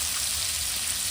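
Tomatoes hitting a hot, sizzling pan for veg chowmein, a dense loud hiss filling the whole brief moment without pause.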